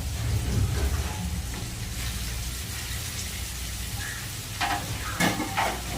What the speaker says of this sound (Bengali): বেগুনগুলো দিয়েছি একটু নাড়িয়ে তারপরে ঢাকা দিয়ে দেবো